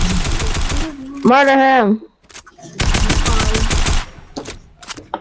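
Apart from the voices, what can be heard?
gunfire from shooting an enemy in a video game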